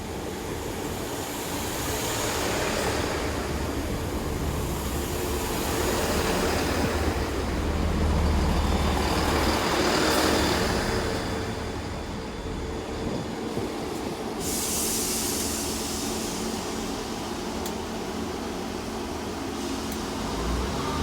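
A Class 166 diesel unit, 166212, rumbles past at Bradford-on-Avon station, a loud, sustained rolling roar of engine and wheels that swells and fades with some metallic squeal, no voices.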